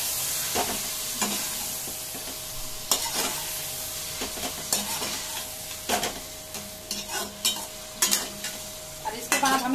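Ginger, garlic and garam masala fry in a kadhai for chicken biryani under a steady close sizzle, with repeated spoon strokes scraping through the spices at an uneven rhythm.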